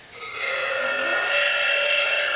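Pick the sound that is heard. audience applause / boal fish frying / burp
burp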